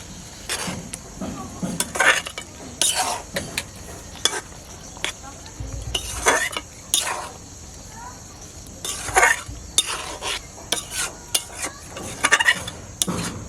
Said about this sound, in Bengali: নাড়িয়ে দিই।